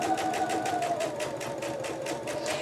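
A sewing machine stitching a quilt runs fast and steady, its needle clattering in an even rapid pulse over a motor whine that dips slightly, close and fairly loud.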